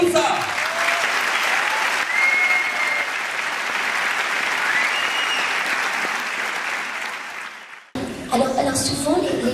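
Theatre audience at the Casino Théâtre Barrière de Toulouse applauding a singer at a song-duel final, a sustained loud wash of clapping that cuts off near the end, followed briefly by a voice.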